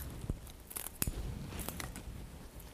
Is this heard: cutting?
yes